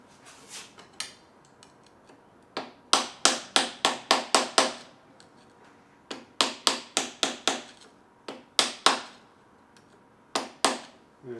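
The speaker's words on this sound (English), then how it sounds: "Next we'll knock the tab washer up on the nut." Tab washer being hammered up against a nut on a Yamaha XV1000 Midnight Special engine, bursts of sharp metallic taps in quick runs of four to six, loud and close, separated by short pauses.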